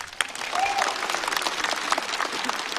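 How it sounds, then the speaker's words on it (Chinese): A comedy-show audience breaks into applause for a stand-up performer: dense, sustained clapping from a crowd filling the hall for a few seconds. "来，我们再次把掌声送给白小白。"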